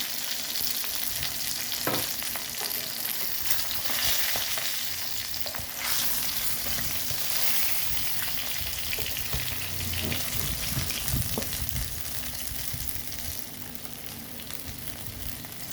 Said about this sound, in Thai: เดี๋ยวขอทอดไปก่อนนะคะ เพื่อนๆ ตอนนี้ปลาก็ใกล้สุกแล้วนะคะ